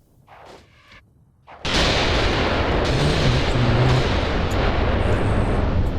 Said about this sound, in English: Artillery. Is it more Katyushas?